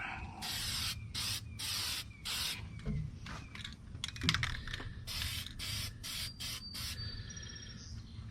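Bursts of aerosol spray paint hiss in repeated short passes, a steady on-off rhythm of close, loud spraying during another coat of paint on an exhaust elbow repair for a 2007 Freightliner Columbia truck.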